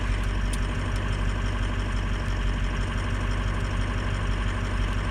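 A truck engine idles steadily after a cold start, a constant low rumble with faint ticks, moderately loud and close, with no audible change as it is put in gear.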